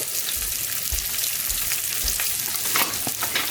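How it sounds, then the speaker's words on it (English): Onions frying in a pan on a stove for shrimp saganaki, a close, steady hiss and crackle of sizzling with soft stirring scrapes. "You hear that nice sizzle?"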